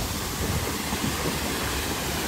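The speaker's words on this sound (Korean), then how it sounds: "아 저기 폭포 있네. 폭포 드디어 찾았어요." A waterfall in a mountain valley stream roars steadily and loudly, a dense continuous broadband rush with no breaks and no voices.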